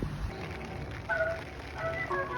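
Steady rain falls after days of wet weather at a brick house under refurbishment, a soft continuous patter with scattered drips, moderately close and without talk.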